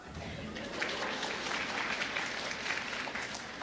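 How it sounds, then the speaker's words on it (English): Lecture audience claps in a dense, steady round of applause, moderately faint and recorded from a distance, lasting a few seconds. "Yeah, you can clap."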